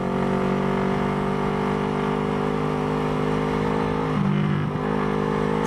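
A Honda CB360 motorcycle engine in second gear drones steadily with a rich harmonic hum at an even pitch, then briefly shifts as the throttle eases near the end.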